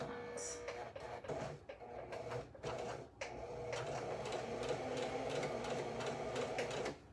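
Sewing machine stitching a seam on a bow back top, rapid mechanical whirring bursts with brief pauses and starts, close and fairly quiet.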